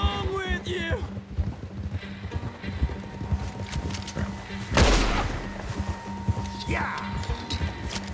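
Horse hooves clopping steadily in Red Dead Redemption 2, a riding gait running under shouted voices and game noise, with a sharper burst like a gunshot partway through.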